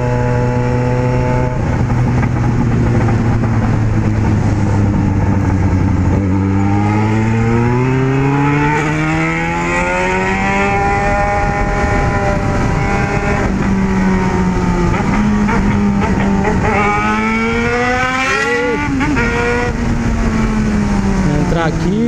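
A Yamaha XJ6 motorcycle carrying a passenger roars loud and close, its engine pitch climbing and dropping through repeated gear shifts and surges of acceleration, with wind noise and voices underneath.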